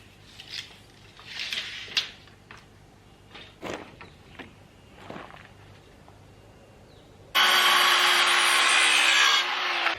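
A wooden board is cut to length for 2x4 framing, with scattered scraping and rubbing strokes followed by a loud, steady two-second burst of cutting noise close at hand.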